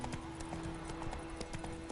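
Hooves of Geralt's horse Roach in The Witcher 3 clip-clopping in a steady, brisk rhythm, close and clear over a low hum, with a faint whinny-like tone in the mix.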